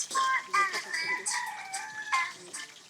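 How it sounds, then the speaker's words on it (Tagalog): A rooster crows at a hot spring campground in Laguna, its call rising and falling over a few seconds at moderate distance. Clucking chickens and faint voices sit underneath. "Oh, may tumilaok naman"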